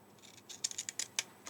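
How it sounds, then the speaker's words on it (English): Scissors snip through paper in a quick series of short, crisp cuts, fairly close and fairly quiet, with no talking. "again my scissors are going right the way along"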